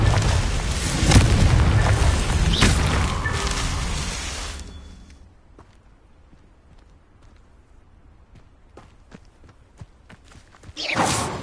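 A Confringo blasting spell explodes in Hogwarts Legacy with a loud booming roar that fades over several seconds into scattered soft thuds and footsteps, then another burst swells at the end.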